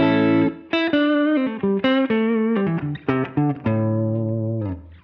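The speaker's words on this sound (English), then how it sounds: "the reverb, easily audible as a small space there" A guitar played through a Strymon Cloudburst ambient reverb set to a small space with minimum decay rings out as a quick melodic run of notes, loud and close, each note trailed by a short, tight reverb tail.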